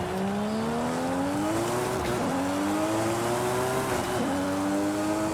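Engine of a restored dream car in the racing game Forza Horizon 5, revving up through the gears in rising sweeps with brief dips at each shift, loud and close.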